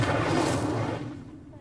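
A fiery spell from the Hogwarts Legacy video game erupts in a loud burst of roaring, crackling flame that swells at once and then tails off over the next second and a half.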